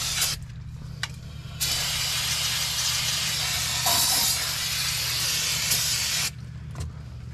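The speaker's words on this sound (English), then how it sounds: "I'm going to give everything just a quick spray of some brake cleaner" Aerosol brake cleaner is sprayed onto the brake parts of a third-generation Toyota Tacoma during a rotor and pad change. A loud, continuous hiss runs for about five seconds after a few short bursts, close to the microphone.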